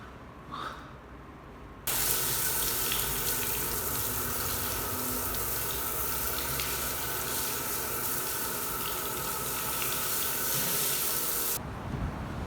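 Water gushing steadily from an outdoor faucet at a seaside campsite foot-wash station in winter, a loud, continuous hissing spray that starts abruptly and runs for about ten seconds before cutting off, with no talking.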